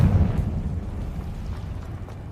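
A Confringo fire spell in the video game Hogwarts Legacy bursts with a deep rumbling blast that fades slowly over about two seconds, with no talking.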